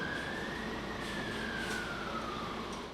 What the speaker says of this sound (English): they're off to the emergency scene, sirens blaring